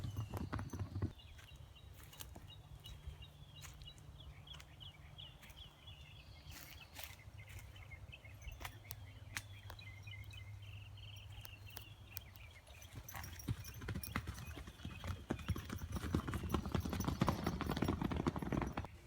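Horses running in a field next door to a rural property, a faint, irregular patter of hoofbeats that grows louder toward the end amid outdoor background noise.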